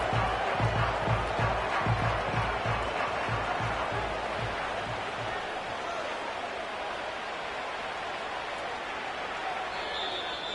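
The stadium crowd in the Madden 25 football video game keeps up a steady, broad roar, with a few dull thumps early on and no voices standing out.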